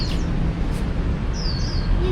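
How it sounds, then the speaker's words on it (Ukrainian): Caged birds sing along a street in Vietnam, with a few thin, high chirps and short whistled calls rising over steady, loud outdoor background noise. "там воно в кліточках птахи співають"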